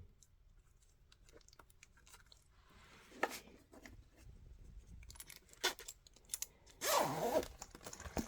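A zipper is run along its tape on a newly sewn crossbody bag in short scratchy bursts with small clicks and handling noises between them, close and fairly quiet.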